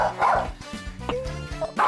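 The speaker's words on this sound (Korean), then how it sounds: "강아지가 이렇게 짖는데도 안 깨네요." A small dog barks repeatedly at a visiting trainer inside a home, a rapid run of sharp, close barks with yelping edges.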